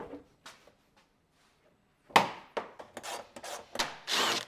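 Bolts are loosened to free the front bumper of a BMW E61, heard as quiet scattered ticks followed by a burst of close rasping, scraping tool strokes and rubbing, with no talking.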